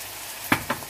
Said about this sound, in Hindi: और इन्हें फ्राई करते हैं।